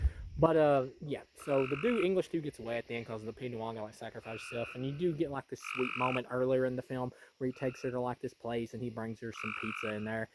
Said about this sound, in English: And I'm sorry if you hear like frogs in the background.